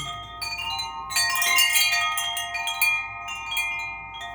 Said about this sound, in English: I'm going to ring my large chimes.